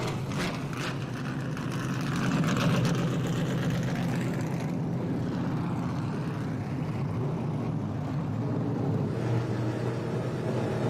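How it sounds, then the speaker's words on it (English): Trans Am race cars at WeatherTech Raceway Laguna Seca sit with engines running, a deep, steady rumble from several motors spread evenly across the whole stretch, moderately distant and without talk. "start your engines"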